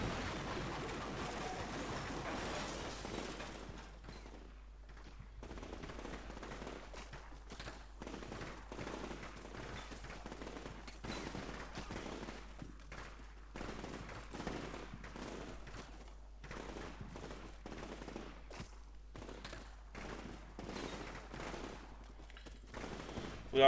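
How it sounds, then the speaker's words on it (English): Artillery fire in the Combat Mission Shock Force video game, heard as a long run of distant rumbling bursts and crackling gunfire rolling on and off at an irregular pace, moderately quiet throughout. "Some accurate artillery fire going in."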